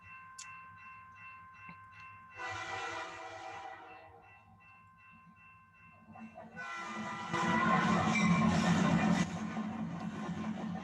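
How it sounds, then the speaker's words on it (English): A train rumbles past with long, tonal horn blasts, the horn sounding twice amid the steady rolling noise of the cars. "hopefully you can hear the train in the background."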